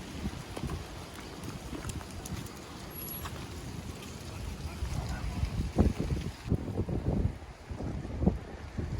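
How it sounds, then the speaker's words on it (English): Strong wind buffets the microphone with low rumbling gusts, swelling louder toward the end, while faint outdoor activity sounds in the background. "Really windy."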